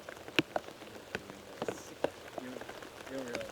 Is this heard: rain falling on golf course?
yes